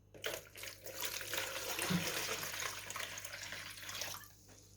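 Tap water running steadily into a container to dilute vinegar for wiping out a refrigerator, a continuous broadband splash heard close and alone.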